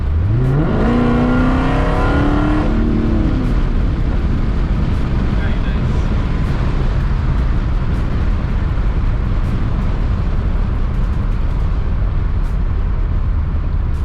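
A 2016 Dodge Challenger Hellcat's supercharged engine revs hard under heavy throttle, a loud rising roar that climbs in pitch over the first few seconds, then settles into a steady, droning rumble inside the cabin.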